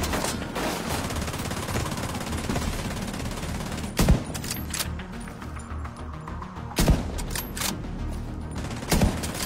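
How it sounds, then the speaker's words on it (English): Gunfire rattles through a combat scene in The Division 2 video game: continuous automatic fire with three sharper, louder bursts standing out over the steady shooting. "I hear gunfire."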